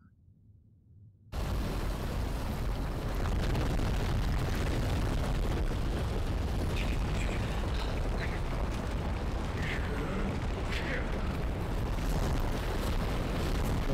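A volcanic explosion in Tekken 8 roars in abruptly after a quiet opening and holds as a loud, dense, sustained rumble with crackling bursts layered over it.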